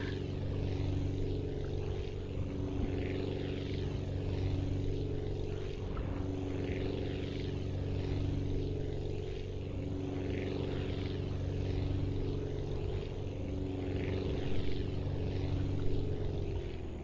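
A propeller aircraft in the video game Aviassembly drones steadily through takeoff, a constant buzzing engine hum with layered propeller tones, even and sustained without talking.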